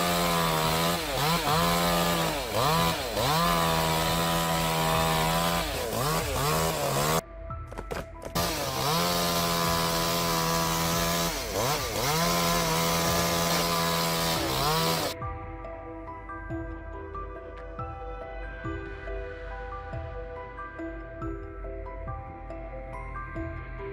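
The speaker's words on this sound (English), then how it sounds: "How long do you think it will take him to take down this giant monster with that giant chainsaw?" A large chainsaw cuts into a giant tree, its engine snarling loud and steady with rising and falling pitch, broken by a brief pause, then dropping into a rougher, quieter idle for the final stretch.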